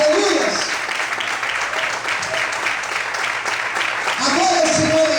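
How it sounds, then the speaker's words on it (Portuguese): A congregation applauds during an evening church service, giving steady, dense clapping across the hall, with voices heard briefly at the start and again near the end. "Será que você pode aplaudir o Senhor essa noite?"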